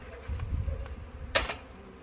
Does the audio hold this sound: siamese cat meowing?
no